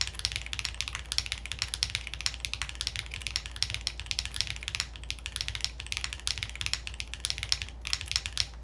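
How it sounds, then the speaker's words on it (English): Fast, steady typing on a mechanical keyboard with blue cheese switches, GMK keycaps and a bare aluminum plate with no foam, giving crisp, close, rapid clacks that run unbroken with no talking. "we're using blue cheese switches, which are a very deep sounding switch"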